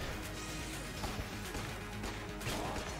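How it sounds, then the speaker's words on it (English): Dense, continuous Enter the Gungeon game noise with repeated booming explosion blasts and crashing impacts, loud and busy throughout with no pauses. "be careful of the delayed explosions"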